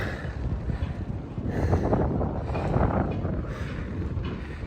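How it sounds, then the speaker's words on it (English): Strong wind buffets a sailboat and the microphone, a loud continuous rushing roar with gusty swells throughout, no talking. "Sorry about the shake, but the wind is strong."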